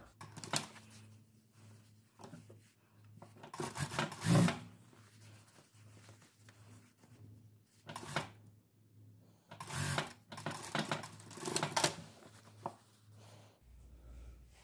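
A sewing machine stitching a dress from the inside face, running in several bursts of rapid mechanical clatter separated by pauses, with a steady low hum throughout.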